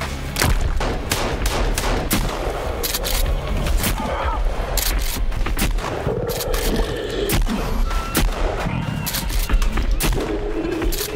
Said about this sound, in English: Let's throw some grenades at him, maybe?